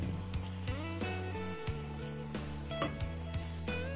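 Masala spices sizzling in a hot pan while being stirred for an eggplant gravy with pakoda, a soft steady frying hiss with occasional scraping of the spoon, faint and close.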